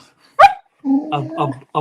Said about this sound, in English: Oh, the dogs are getting excited.